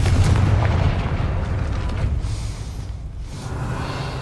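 A Confringo fire spell in the Hogwarts Legacy video game detonates with a heavy, booming blast that rolls on for several seconds and tails off into a low rumble.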